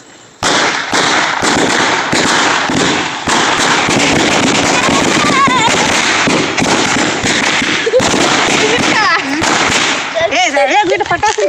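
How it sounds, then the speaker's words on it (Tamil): Firecrackers going off at a New Year celebration, rapid bursts and pops in dense irregular volleys, loud and close, with voices and crackling between blasts. "வீட்டு பட்டாசு வெடிக்கிறீங்களா?"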